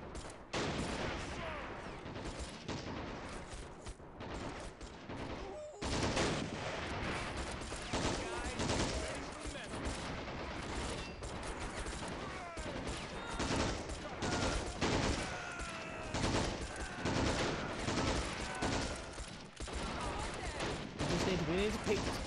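Dense, sustained gunfire with rapid bursts, machine gun among them, fills a Call of Duty campaign battle on the Crossroads mission, loud and nearly continuous, with someone talking over it.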